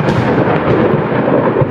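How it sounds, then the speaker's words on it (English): A thunder sound effect used as a stand-in for an explosion, a loud continuous broadband rumble that holds steady for under two seconds with no speech over it. "I only got thunder sound."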